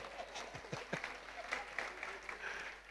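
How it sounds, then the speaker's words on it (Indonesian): Congregation applause during a Christian church sermon, honoring the preacher's wife: a steady patter of hand claps spread across the room, moderately loud and sustained for a few seconds, with no talking over it. "Tepuk tangan dulu buat istri saya, doi."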